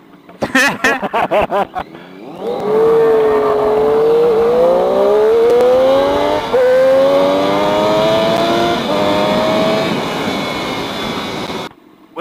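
A car pulls away hard in low gear, the engine note rising loudly and steadily close by for several seconds after a few quick bursts at the start, then fading off toward the end.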